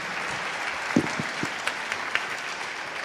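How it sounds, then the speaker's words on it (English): Applause from a conference audience on a summit stage, a moderate wash of clapping with a few sharper nearby claps standing out and no talk over it. "A big applause for them, please"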